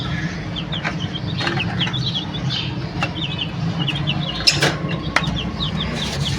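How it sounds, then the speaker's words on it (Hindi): Chicks flap their wings and cluck close by while begging for millet, soft scattered chirps and fluttering over a steady background hum. "आप देख सकते हैं नीचे चूजे जो है वो बाजरा मांग रहे हैं"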